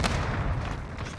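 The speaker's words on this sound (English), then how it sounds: "Enemy cluster strike incoming" Cluster strike explosions in Call of Duty Modern Warfare, a dense rolling barrage of heavy booms and thuds that merge into a continuous loud low rumble.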